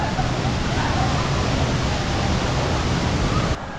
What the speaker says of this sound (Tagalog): Yung waterfalls ay nando sa side na yon.